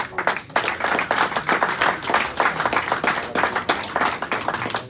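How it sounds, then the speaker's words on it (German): Dense, continuous applause fills the room at a football press conference after BSV Kickers Emden beat MTV Eintracht Celle 5:3, many hands clapping steadily and loudly from start to finish with no voices on top. "Ich darf unsere Mannschaft einen donnernden Applaus verdienen für die tolle Leistung."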